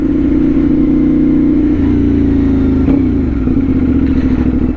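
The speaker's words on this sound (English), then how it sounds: "I love downshifting so much." A CFMOTO 450SS motorcycle with a new exhaust roars loudly and close, its engine note stepping down through several downshifts with blips and crackling burble between gears.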